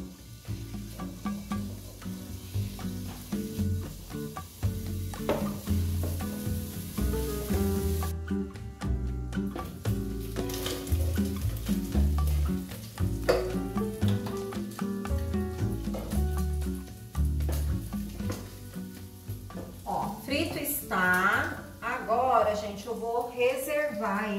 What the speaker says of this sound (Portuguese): nós vamos começar fritando esse bacon